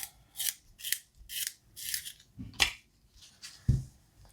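A colored pencil is sharpened in a series of short, close scraping twists, about eight quick bursts with brief pauses between them.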